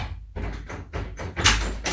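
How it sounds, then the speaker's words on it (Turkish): A series of knocks on a door indoors, about six firm, close raps spread unevenly over two seconds, with no talking. "Kapı çaldı."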